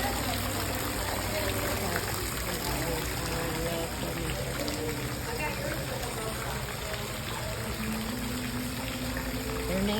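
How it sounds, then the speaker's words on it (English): Water sprays down steadily on Caribbean flamingos in a Key West butterfly and nature conservatory, a continuous hiss and patter with soft background talk and bird sounds. "They must like the water coming down on them."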